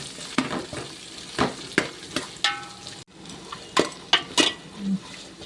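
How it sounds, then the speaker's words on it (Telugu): Sliced onions and green chillies frying in a pan over a flame for mint rice, crackling sizzle broken by sharp scrapes and clacks of a stirring spoon, close up with a short pause midway. "ఆనియన్స్ వేసాను తర్వాత గ్రీన్ చిల్లీస్ కూడా వేసుకున్నాను ఇవి కూడా అలా ఫైవ్ మినిట్స్ లో ఫ్లేమ్ మీద వేగనివ్వాలి"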